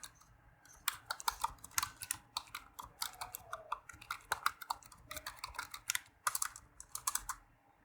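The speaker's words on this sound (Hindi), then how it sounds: "यहाँ पे मैं उर्दू लिखने के लिए उर्दू को टाइप करता हूँ।" Urdu text is typed on a computer keyboard, a close, quick run of crisp key clicks in irregular bursts with brief pauses, heard alone.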